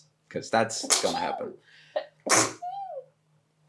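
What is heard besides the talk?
a person sneezing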